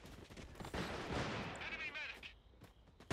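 Sniper gunfire in the online shooter game Caliber comes as a few sharp shots amid busy game effects, moderately loud and dense over the short stretch.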